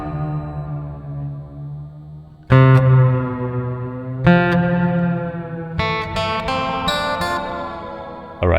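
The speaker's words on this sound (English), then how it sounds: "Modulation is basically adding different effects to the reverb." A Hall of Fame Mini reverb pedal with modulation switched on shapes sustained electric guitar notes and chords, each loud strike ringing out into a shimmering, wavering wash.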